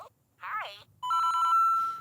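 A LEGO Luigi figure from the Luigi's Mansion set plays a short electronic voice clip, followed by a steady chiming tone, as an Egad tile is scanned, close and clear.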